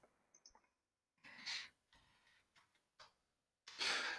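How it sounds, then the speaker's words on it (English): Quiet, close clicks of a computer keyboard in short, irregular bursts separated by brief pauses while notes are typed into a planning program, with a few louder clusters of keystrokes. "I'm sorry for my typing."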